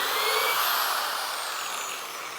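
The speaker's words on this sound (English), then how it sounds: "It makes drilling very easy." A power drill drives a self-feeding bit into wood, giving a short, fairly close whir with a bright grinding edge that fades slightly as the bit pulls itself into the material.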